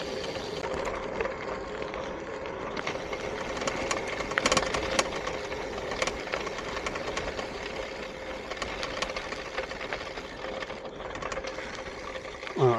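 A bicycle rattling over rough, bumpy gravel on a Scottish Borders ride, with a continuous close clatter and rumble from the tyres and frame and a few sharper jolts along the way.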